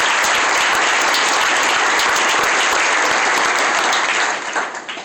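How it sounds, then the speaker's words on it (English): An audience at a mayor's State of the City address applauds steadily, dense clapping from a large crowd that fades near the end. "please join me in giving them each a round of applause"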